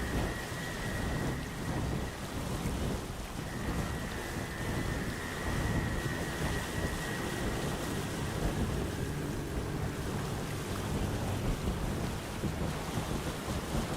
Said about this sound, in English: it's the only way to break through the ever-raging storm that surrounds the islands